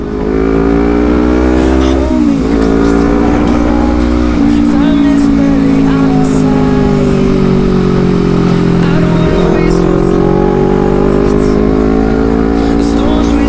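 A motorcycle engine revs while riding, its loud droning note rising and falling with gear changes and wind noise, close and continuous throughout.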